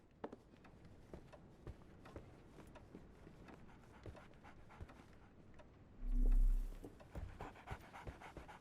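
A sick dog pants in the Sherlock Holmes: The Awakened game, a soft, steady breathing rhythm low in the mix, broken by a brief louder whoosh near the end.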